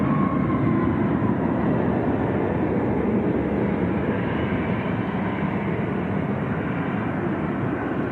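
An airliner takes off at Manchester Airport, heard as a broad, steady, loud jet roar with deep rumble, sustained without pause and no voices over it.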